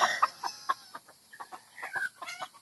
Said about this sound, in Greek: Ωραία χήνα πάντως, γκρι με άσπρη.